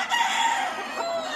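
A rooster crows once, loud and close, at a gamecock breeding farm in Spain, a full drawn-out call standing alone against quiet surroundings.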